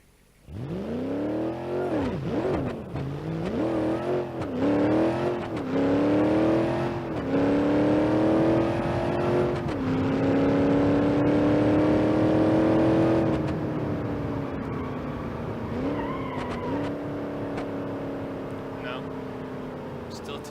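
Nitrous-boosted car in BeamNG.drive, the Granny Cart roadkill project, launching on a prepped drag surface: engine revs climb repeatedly through gear changes, a loud sustained whine building then easing off at the end.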